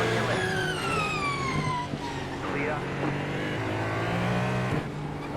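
Race cars, a Hypercar and slower GT cars, pass each other on the Belle Isle circuit in a racing video game, engines whining and rising in pitch with a swooshing pass near the middle, under continuous talk.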